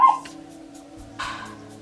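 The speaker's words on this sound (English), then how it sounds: "this dog is always barking at nothing" A dog yips and whimpers briefly, a short burst at the start and another near the end, with faint low household hum between.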